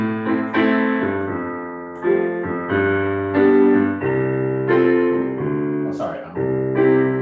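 Piano playing doo-wop style chords, a slow progression of sustained block chords struck one after another, warm and fairly loud, with a brief extra noise near the end.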